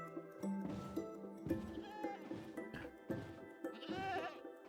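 A goat bleats repeatedly inside the Minecraft video game, several close, loud wavering cries over game background sounds, no talk.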